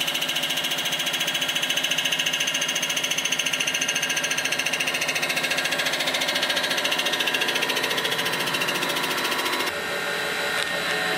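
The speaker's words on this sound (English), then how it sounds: "we're using a CBN cutter" A CBN cutter resurfaces a Honda B18 engine block at about 850 RPM, giving a loud, steady machining whine with a dense, rapid tonal buzz that runs continuously before dropping slightly near the end.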